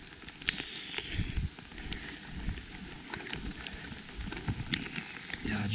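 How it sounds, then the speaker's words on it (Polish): Rain falls on a road near a brickworks, a dense hiss of drops with scattered sharper patters and splashes close by. "No nieźle leje."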